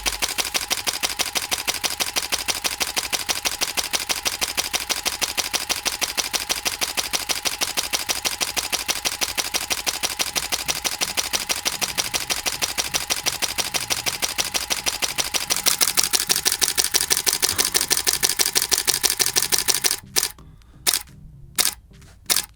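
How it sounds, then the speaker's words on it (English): A Canon 5D Mark IV fires its shutter in a rapid continuous burst, a steady stream of crisp mechanical clicks lasting about twenty seconds. A few separate, louder single clicks follow near the end, with no voices. "Let's see how fast the shutter moves real quick."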